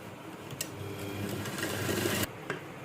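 A sewing machine stitches the shoulder seam of a kurti in one steady, close run of rapid needle clatter that stops abruptly, followed by a quiet click.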